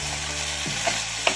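Beaten egg being stirred into ridge gourd frying in a pan, giving a steady soft sizzle with a couple of faint utensil scrapes and taps, close and with no talking.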